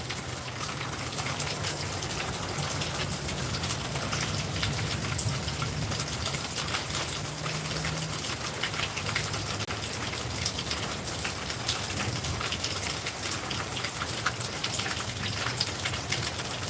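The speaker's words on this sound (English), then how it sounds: "it's a rainy day in my sunshine garden" Steady rain pours over a home garden, a dense continuous hiss of drops on leaves and surfaces with a low gushing undertone, close and even throughout, no voices.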